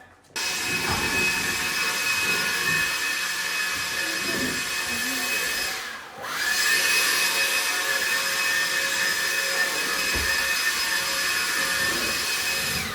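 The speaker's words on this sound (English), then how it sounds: "Do you want me to blow it to a corner and then vacuum the corner?" A blower roars steadily across the floor of a shipping container office, a loud continuous whooshing drone that briefly dips and then resumes at full strength.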